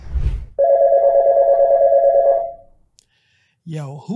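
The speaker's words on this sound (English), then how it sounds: "who is calling my phone this time of night?" A phone in a summer camp horror video game rings at night with a long steady electronic tone, loud and close, then cuts off into silence before a voice begins speaking.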